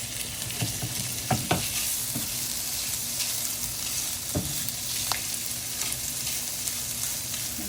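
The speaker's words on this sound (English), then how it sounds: "So you're gonna go ahead and throw in the sausages." Sausages frying in a pan for Cajun shrimp and sausage pasta make a continuous close sizzle, broken by a few light knocks and clatters of a utensil against the pan.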